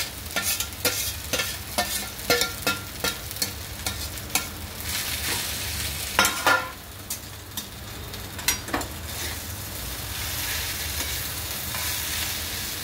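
Crushed cluster beans (gavar) sizzle in a hot pan while a spoon stirs and scrapes in a run of sharp, irregular clacks over a steady frying hiss.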